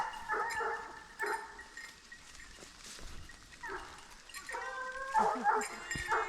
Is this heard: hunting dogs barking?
yes